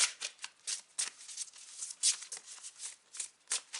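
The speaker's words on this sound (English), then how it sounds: "let me finish my shuffling" Tarot cards are shuffled by hand in quick, crisp riffling bursts, close and fairly quiet, repeating in an uneven rhythm.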